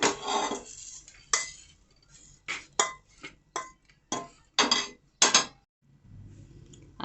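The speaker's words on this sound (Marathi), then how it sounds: "आता मी गॅस बंद करते आणि खजूर पण या प्लेटमध्ये काढून घेते." Warm dates are scraped from a hot pan onto a plate in a home kitchen, a series of close, sharp metal-on-metal clinks and taps arriving in an uneven rhythm about every half second, with no talking.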